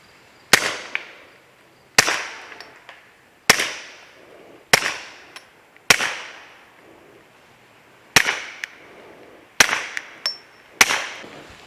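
Fort Scott TUI 115 grain supersonic rounds fired outdoors in a field test, eight loud sharp cracks spaced a second or two apart, each with a quick echoing decay.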